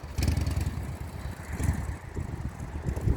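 An old 45 motorcycle with sidecar runs outdoors, its low engine thump pulsing in an uneven rhythm under some wind noise.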